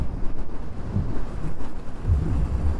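Strong wind gusting and buffeting near windmills on a road in Karnataka, a loud steady low rumble that swells in heavy gusts.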